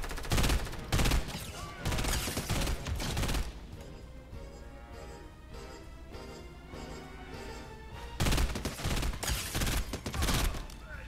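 Bursts of rapid gunfire from an enemy player in Fortnite, dense and loud at the start and again near the end, with a quieter stretch of game sounds between.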